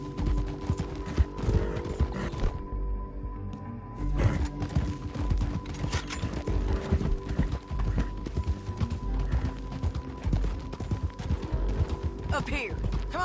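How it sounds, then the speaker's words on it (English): A horse galloping in Red Dead Redemption 2, with rapid rhythmic hoofbeats running throughout under game dialogue, music and occasional gunfire. "Get back on your horse, John."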